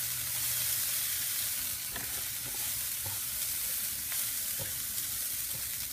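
Ground pork frying in a pan, a steady broadband sizzle with occasional stirring scrapes and clicks, continuous and close throughout with no talking.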